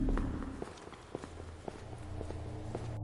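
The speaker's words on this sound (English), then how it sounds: "I can hear footsteps in the corridor outside. Small footsteps, coming this way." Small footsteps move along an indoor corridor, a series of light, evenly spaced steps over a low background hum.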